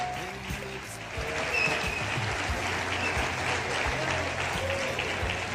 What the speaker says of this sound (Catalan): Fort l'aplaudiment per la Pilar.